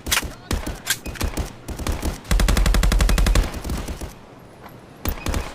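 Automatic gunfire in a shooter video game against bots: bursts of rapid shots with a sustained stretch of fast fire in the middle, followed by a few isolated shots, loud and close.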